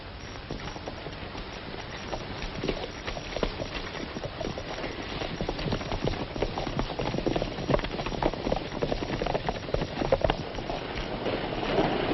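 Steady clip-clop of several horses' hooves, a continuous rhythmic patter at moderate distance with no voices.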